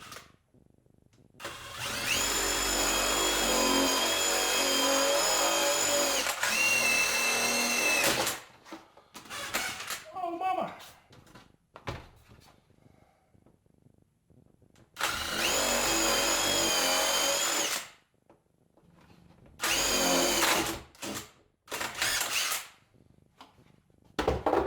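A power drill bores holes into a plastic garbage can in two long, loud whirring bursts with a falling pitch, separated by short starts, quiet pauses and handling clatter.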